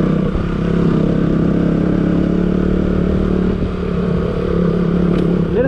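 Motorcycles carrying riders, two bikes, hum steadily on a ride to a waterfall at Kulekhani, a loud, continuous engine drone with little change in pitch and no talk.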